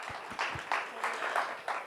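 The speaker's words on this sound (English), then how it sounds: "round of applause" A faint, thin patter of scattered clapping from a small audience at a student pitch night, sparse and uneven with a few distinct louder claps, heard from a distance.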